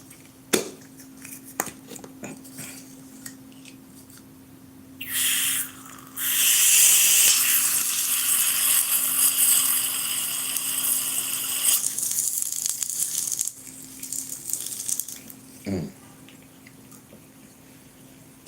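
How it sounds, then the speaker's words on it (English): A sizzling hiss as fluid is added, starting faintly, then rising into a loud, steady steam-like rush for several seconds before dropping back to quieter hissing and scattered drips. "Y'all hear that sizzling?"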